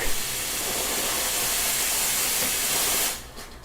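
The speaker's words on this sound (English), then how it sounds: "A great pro tip about the steam wand is it is very fast and very powerful" Steam wand on a Nuova Simonelli Oscar II espresso machine hissing in a loud, steady, broadband rush for about three seconds, then cutting off abruptly, with no talk.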